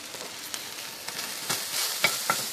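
Sirloin steak sizzles steadily in a hot pan, a close, continuous crackle with a few sharper pops and bursts of spatter; no one speaks.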